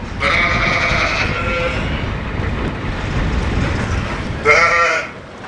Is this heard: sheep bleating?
yes